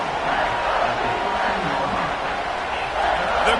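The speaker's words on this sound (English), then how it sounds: "The crowd getting behind this defense as they try to get a stop in the red zone." Broad roar of a football stadium crowd cheering for the defense during an Ohio State at Nebraska game, a steady dense wash of voices throughout with no single shouts standing out.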